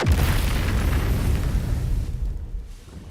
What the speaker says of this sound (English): You hear an explosion, the earth shuddering beneath.